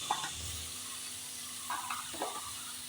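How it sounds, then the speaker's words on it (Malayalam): Onions sautéing in a pan give a soft, even sizzle with a few light stirring scrapes, close but fairly quiet, with no one speaking. "ഉള്ളിൻ്റെ കളറ് മാറുന്നവരെ ഒന്ന് നമ്മൾ വഴറ്റിയെടുക്കാം"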